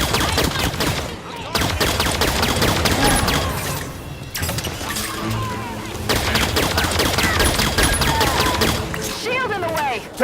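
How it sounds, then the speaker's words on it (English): A fuel rod gun firing in the shooter game Halo 5: Guardians, loud repeated blasts and explosions amid dense gunfire, with someone talking over the action. "I use the fuel rod to soften them up"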